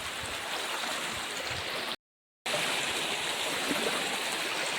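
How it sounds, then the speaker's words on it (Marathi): A village river stream pours along in a continuous, close rushing wash, cut by a brief silent dropout midway. "मस्त पाणी वाहतं"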